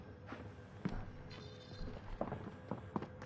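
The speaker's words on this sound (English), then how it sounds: "I still hear footsteps, so he might be still in there." Footsteps in Call of Duty Warzone, a series of soft, irregular thuds at moderate distance, spaced out over a few seconds against faint background game ambience.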